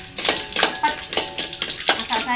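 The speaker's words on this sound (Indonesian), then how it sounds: "ini bumbunya saya goreng dulu" Lodeh spice paste of shallots, garlic and chili frying in a pan, a steady close sizzle broken by repeated stirring scrapes in an uneven rhythm of about six strokes.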